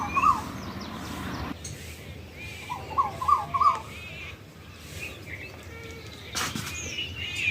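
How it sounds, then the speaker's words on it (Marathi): An Asian koel perched in a teak tree gives a few clear rising calls near the start and a quick run of repeated calls midway, moderately distant over rustling outdoor background noise. "तिच्या जागेवर आणि नित्यनियमाने येणारी ही कोकिळा ह्या सागाच्या झाडावर बसलेली अगदी पोच देऊन आणि आपला गळा मोकळा करत आहे"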